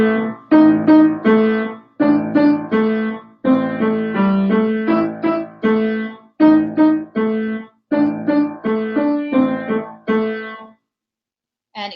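Piano piece, played alone: short repeated chordal patterns in clipped, rhythmic phrases separated by brief pauses, moderately loud and close, ending in silence.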